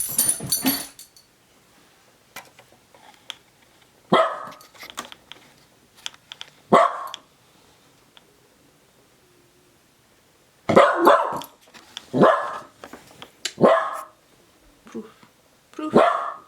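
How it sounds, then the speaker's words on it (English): A dog barks in short scattered bursts from somewhere below the room, some singles and some quick clusters, moderately loud with quiet gaps between them. "Ignore Charlie barking down there."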